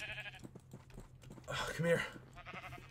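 A sheep bleats in a short, wavering burst near the middle, with a person speaking briefly before it and low background noise throughout.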